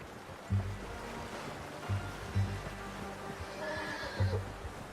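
A horse in the Red Dead Redemption II video game whinnies and snorts at low volume, with several short bursts over a soft rushing, water-like ambience.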